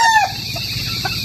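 A Harold Brown Gray rooster gives a short, close crowing call, then a couple of soft clucks in quick succession, loud and alone.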